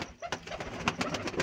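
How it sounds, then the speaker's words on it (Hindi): Pigeons of mixed fancy breeds cooing in a loft, a burst of soft repeated throaty coos close by, with no talk. "एक लाल मोती वाला कबूतर है,"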